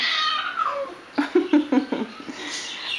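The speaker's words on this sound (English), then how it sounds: "saddest cat in the world." A sad-sounding cat cries in a drawn-out, wavering meow, followed by a series of short plaintive yowls, heard up close with a person speaking softly nearby.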